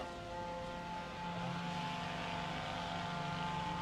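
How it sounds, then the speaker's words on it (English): Weed whackers running in a large temple park at Naritasan Shinsho-ji in Japan, a steady droning engine whine that stays constant and somewhat distant, with no talking over it. "So you may hear a lot of weed whackers going right now."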